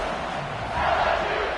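A football stadium crowd on its feet yelling and screaming, a broad, steady roar of many voices that swells briefly midway.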